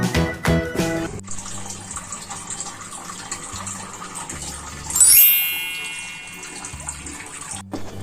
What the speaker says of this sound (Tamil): நான் இந்த சொம்பு அளவு தண்ணி போட்டிருக்கேன்.